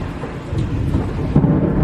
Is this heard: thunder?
yes